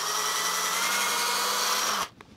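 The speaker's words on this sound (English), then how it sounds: "Drill in halfway, go to the other side." A power drill bores through a motorcycle rally tower part for a Yamaha Tenere 700, whining steadily and loudly up close before stopping abruptly near the end.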